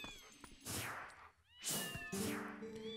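Several cats meow in turn at a gathering of cats in the Zelda game Twilight Princess, the calls close and fairly loud, rising and falling, with no talk over them.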